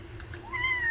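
A pet cat meows at dinner time as a new can of soft food is stirred, one short rising meow standing out over low room hum.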